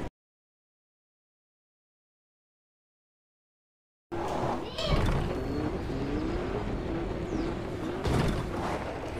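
Car in Fortnite's Rocket League mode driving and reversing: after several seconds of silence, a steady engine hum with shifting revs starts abruptly and runs continuously, with a couple of louder bumps.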